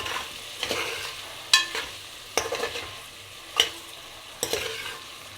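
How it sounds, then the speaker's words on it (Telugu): A spoon stirs potato and fenugreek curry with a quarter teaspoon of turmeric in a pan, producing several sharp scraping knocks spaced a second or so apart over a low sizzle. "పసుపు పావు టీ స్పూను యాడ్ చేసుకోవాలండి మొత్తం కలుపుకుందాం"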